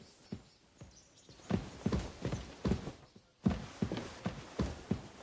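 Horse hooves clip-clop at a steady walking pace in Kingdom Come: Deliverance II, a close, even series of hollow thuds continuing throughout with no speech over it.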